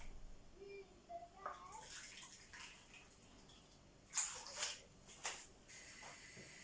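Water splashes and trickles in short bursts as it is poured into a cooking pot of bulgur wheat, with a few louder pours near the end, quiet and close, no talking.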